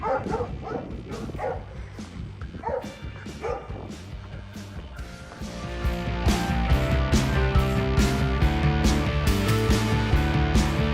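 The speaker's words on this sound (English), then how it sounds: "The dogs have started up again." Several dogs barking along Mill Lane on a countryside walk near Balcombe, West Sussex, with repeated sharp barks and yips that come quickly and overlap, fairly close and growing louder and denser toward the end.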